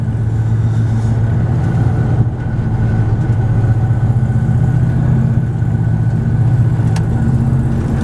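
Car engine pulling steadily in fourth gear at about 55 mph on aggressive tires, a continuous low droning hum with road noise, loud and unbroken throughout, no speech.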